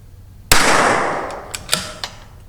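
A single sharp crack from a CZ 457 .22LR rifle fitted with an ATS tuner, fired close by and decaying over about a second, followed by a few faint ticks and clinks.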